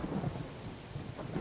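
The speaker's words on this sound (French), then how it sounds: "De l'orage, une pluie fine." Thunderstorm with light rain in a flight simulator, a continuous low rumble under a soft steady hiss of rain, with no voices.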